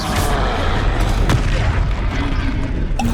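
Confringo blasting spell going off in Hogwarts Legacy combat, heavy booming blasts and crackling bursts layered over a dense, loud battle rumble, with a sharp hit near the end.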